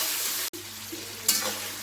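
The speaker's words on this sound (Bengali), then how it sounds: "খুব ভালো করে নাড়বো।" Onions frying in a pan while being stirred, a steady sizzle with a brief break before scraping resumes, close and moderately loud.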